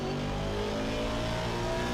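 In a racing video game, a McLaren Artura lapping the Nordschleife gives a steady, faint engine drone with a dense, even tone and no talk.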